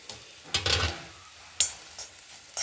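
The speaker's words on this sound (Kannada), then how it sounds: "ಕೇರಳದವ್ರ ಅಡುಗೆಗೆಲ್ಲ ಲಾಸ್ಟಿಗೆ ಒಂಚೂರು ತೆಂಗಿನಕಾಯಿ ಫ್ರೈ ಮಾಡಿ ಹಾಕ್ತಾರೆ" A couple of tablespoons of grated coconut roasting in a little oil for a Kerala-style kootu: soft sizzle broken by a few sharp spatula scrapes and stirs, close and fairly quiet.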